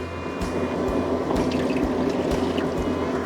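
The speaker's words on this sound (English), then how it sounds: "Let's get some water in the pan." Water poured into the water pan of a Pit Boss vertical smoker, a steady splashing and filling sound with a few drips, close and fairly loud, heard alone.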